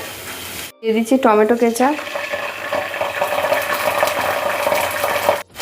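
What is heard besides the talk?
chopped garlic frying in hot oil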